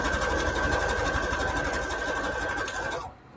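A sewing machine stitches paper postage-stamp embellishments made from scrap paper, running steadily and close for about three seconds before stopping abruptly.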